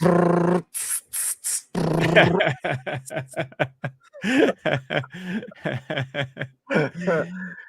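A man imitates the hiss of an airbrush spraying with his mouth, in short breathy bursts mixed with chuckles and laughter, close up and fairly loud.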